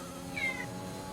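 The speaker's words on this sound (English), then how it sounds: "We have a cat in the radio booth." A cat in a radio booth gives one short, faint meow partway through, heard over a quiet hum of room noise.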